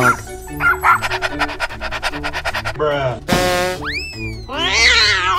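Cartoon dog barking in a children's animal video, a few clear barks amid a busy bed of music and playful sound effects, with other voices around it.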